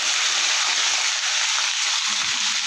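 Pieces of desi chicken sizzle in hot oil, a loud, even, close hiss of frying that holds steady from start to finish with no voices.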